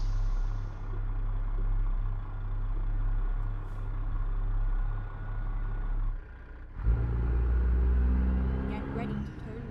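Truck engine droning steadily while driving in American Truck Simulator, a loud low rumble that dips briefly then returns with a hiss, under someone talking.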